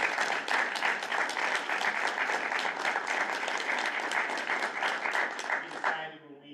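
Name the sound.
applause for student performers at a school board meeting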